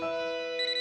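A phone ringtone sounds in a Boonie Bears cartoon, a steady electronic tone that shifts to a brighter warbling pattern partway through the short burst, with no voices.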